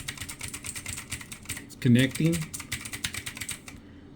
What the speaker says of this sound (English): We're gonna type in anything you want.